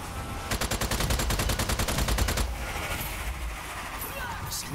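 Rapid automatic gunfire in Strange Brigade: a fast, even burst of a couple dozen shots lasting about two seconds, loud and close, followed by rumbling ambient noise.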